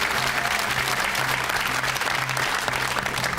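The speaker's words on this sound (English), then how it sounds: "a very, very sporting clap for you there from the other team" Studio audience at a quiz show gives a sustained round of dense applause for a team, even and continuous throughout, with a faint low hum underneath.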